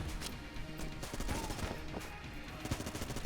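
Rapid bursts of gunfire from the twin-stick shooter Enter the Gungeon, dense and continuous with sharp repeated shots layered over game effects throughout.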